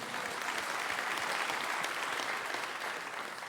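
A church congregation applauds steadily during a service, a dense wash of clapping that holds strong throughout and tapers slightly at the end.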